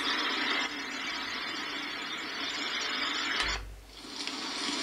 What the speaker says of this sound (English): The sound of waves.